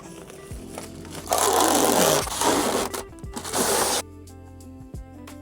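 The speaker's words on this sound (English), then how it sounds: "let's get this plastic off" Plastic wrapping being pulled and torn off a Shield Autocare Cool Mate 44L 12V camper fridge: loud crinkling, scraping bursts over a few seconds that drop away to a quieter background.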